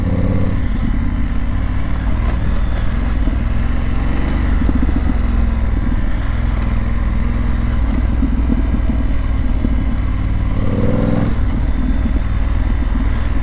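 A BMW F900GS motorcycle cruising along a road, its steady mid-pitched engine drone loud and continuous with slight variations in throttle and no speech.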